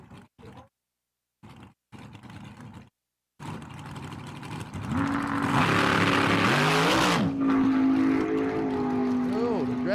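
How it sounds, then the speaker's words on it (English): Dragster spinning its tires at Empire Dragway, a loud rising engine roar with tire squeal and wavering pitch building after a few seconds of choppy announcer talk, then holding near and strong. "Dragster spun."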